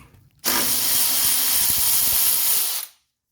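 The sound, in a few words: removing a 13 millimeter bolt and spacer from car axle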